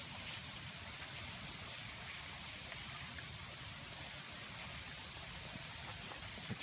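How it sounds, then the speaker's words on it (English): Steady rain falls outdoors in October, a soft continuous hiss of drops on surfaces, fairly faint and even throughout with no talk. "It's raining."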